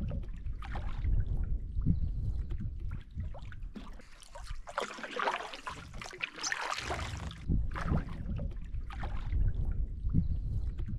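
A kayak paddles under a rock shelf on freshwater, with soft paddle strokes and drips and water trickles echoing close by in an uneven rhythm, no talking.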